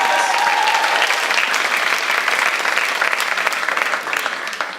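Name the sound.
audience applause for poetry judges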